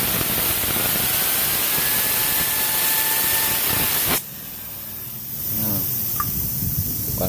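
Cleaner sprays hard and loud onto the CVT of a Honda Beat Street scooter in a long continuous hiss that cuts off abruptly, followed by quieter hissing and light handling noises.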